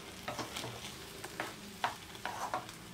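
Curd being stirred into semolina (suji) for upma, with a spoon scraping and tapping the pan in irregular strokes over a soft background sizzle, fairly quiet and close, with no talking.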